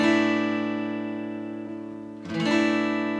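A guitar chord from a song, strummed on the bottom five strings, rings out and slowly decays, then is struck again near the end, clear and close with no talking.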